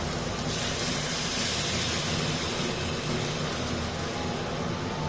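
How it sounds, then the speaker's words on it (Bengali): Lentils tipped into a pan of frying spices, onion, garlic and tomato for masoor dal give off a steady, loud sizzling hiss that holds evenly throughout, with no voices. "এবার আমি ডালটা ওর মধ্যে অ্যাড করে দেব।"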